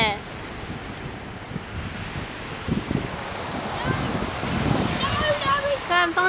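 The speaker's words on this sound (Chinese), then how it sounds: "哇，还有海浪声哦" Ocean surf rolls onto Waikiki Beach, with a steady wash of waves and wind buffeting the microphone, and people talking in the background.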